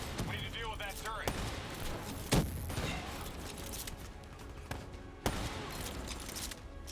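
Turret fire in Call of Duty: Black Ops III, with sustained rattling bursts and a few sharp heavy impacts spread through the stretch under battle noise, while characters talk over it.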